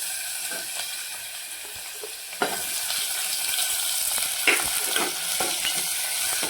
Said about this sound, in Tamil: இப்போ சின்ன வெங்காயமும் தக்காளியும் ஒன்றா போட்டுக்கலாம்